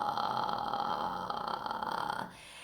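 Vocal fry warm-up tone from a singer, a low creaky voiced rattle held steadily for over two seconds before cutting off, alone and fairly quiet.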